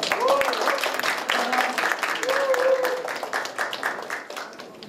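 Audience at a Seoul city council integrity training session applauds to welcome the Anti-Corruption and Civil Rights Commission vice chairman. Continuous crisp clapping runs throughout, with voices talking over it.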